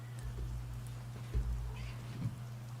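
A pet cat meows indoors, a couple of soft, short calls over a steady low hum, close by with no talking.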